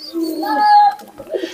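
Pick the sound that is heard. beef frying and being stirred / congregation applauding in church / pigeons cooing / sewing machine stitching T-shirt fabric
pigeons cooing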